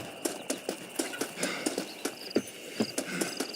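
A horse's hooves clip-clop at a steady trotting pace in the Western video game Red Dead Redemption. The hoofbeats are quiet but distinct and evenly spaced over a faint outdoor ambience, with no talk.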